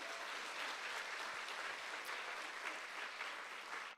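Audience applause fills a presentation hall at a talk on drinking water and countertop water purifiers, a dense, steady clatter of many hands clapping without pause for about four seconds before cutting off sharply.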